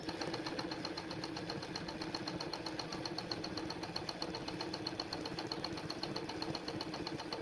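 A zigzag sewing machine stitches running-stitch embroidery, a steady fast mechanical chatter and hum that runs evenly and alone throughout, close and moderately quiet.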